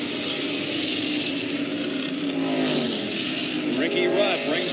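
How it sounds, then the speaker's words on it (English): A NASCAR stock car roars through the S-curves during a race, its loud engine droning steadily and rising in pitch as it accelerates, with a commentator talking over it throughout. "Ricky Rudd brings the car once again down through the S's."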